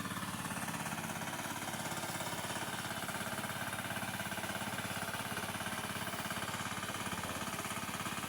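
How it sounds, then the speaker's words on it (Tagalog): A new mud boat plough, a small engine-driven turtle plough used in place of a carabao to prepare a flooded rice field, runs with a steady, loud, close engine chug and rattling vibration throughout, with no voices. "Testing ang bagong makina."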